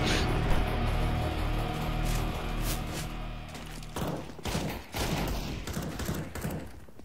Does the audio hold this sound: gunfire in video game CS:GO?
yes